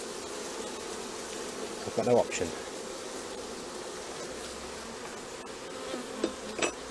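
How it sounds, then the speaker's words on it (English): Honeybees buzz around an opened hive as it is being worked, a steady insect drone throughout with a few brief knocks and handling bumps; a voice speaks briefly. "Now we'll be a load of bees following it, because they won't want me taking their honey."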